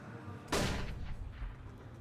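A single sharp gunshot from a Counter-Strike headshot on the Nuke map during a tournament match, abrupt and loud, followed by a short rumbling decay.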